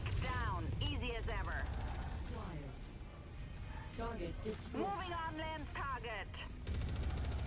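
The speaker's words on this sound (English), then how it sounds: "I am still trying to dodge all of this artillery, too." Heavy weapons fire and explosions in MechWarrior 5, a steady roar of blasts and mechanical clatter under repeated electronic warbling tones, with a voice speaking at points.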